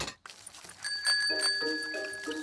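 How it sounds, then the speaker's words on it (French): Cartoon bicycle bell rings in a few bright, clear dings, close and alone. "Et ici la sonnette"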